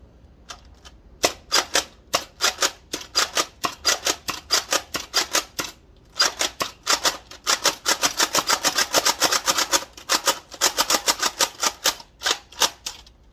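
A Nerf Quick 16 blaster fires foam darts in fast repeated bursts of sharp snapping shots, loud and close, with short pauses between volleys and no talk.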